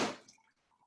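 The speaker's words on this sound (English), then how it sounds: "pour it in the glass" A mocktail pours into a glass in a short splashing burst that quickly tapers off, followed by a few faint drips.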